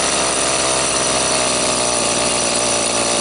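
A gas-powered T-Rex 600 RC helicopter engine idles after warming up, a loud, steady, buzzing drone that runs continuously without change.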